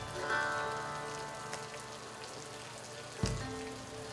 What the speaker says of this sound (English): A sudden burst of rain douses our